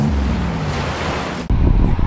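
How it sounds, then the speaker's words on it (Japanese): Ocean waves break at a surf beach in Chiba during a world surfing contest, a steady loud roar of surf with wind buffeting the microphone and a sudden shift near the end. "急にちょっと波来てますね。"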